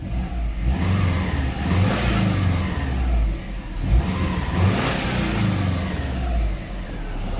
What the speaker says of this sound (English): RPM is good. Feels like it's strong. No more smoke. Been running for about 20 minutes now.